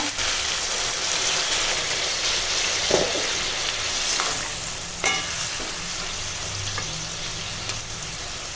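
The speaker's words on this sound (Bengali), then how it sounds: "বাঁধাকপিটা কষানো হয়ে গেছে এবার জল দেব" Shredded cabbage sizzles and fries steadily in a hot pan as water is poured in. Constant close crackling is broken by a few sharp spatters and scraping stirs.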